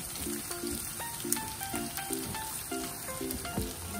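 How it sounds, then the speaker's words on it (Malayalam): Garlic, dried red chillies and curry leaves sauté in hot oil with a constant soft crackling sizzle, broken by light rhythmic stirring taps of a spoon against the pan. "അല്പം കറിവേപ്പില എന്നിവയിട്ട് ഒന്നുകൂടെ ഒന്ന് നമുക്ക് വഴറ്റിയെടുക്കാം."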